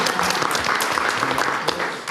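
Audience applause at a neighborhood leadership forum, a dense steady clatter of many hands clapping throughout with some faint voices mixed underneath.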